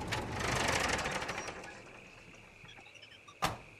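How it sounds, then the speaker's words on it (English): A tractor in the video game Scum gives off a rapid mechanical clatter that is loudest at first and then fades away. A sharp knock comes near the end. "No, but I do hear the tractor."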